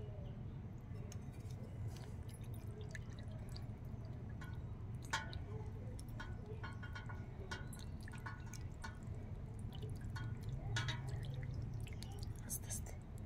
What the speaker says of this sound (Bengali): তাই এই জলটা ফেলা হচ্ছে।